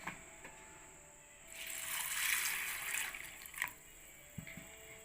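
Water splashes and swirls in a bowl as sago pearls are rinsed in a kitchen, a soft rushing burst in the middle with a few light clinks and trickles after, faint and close.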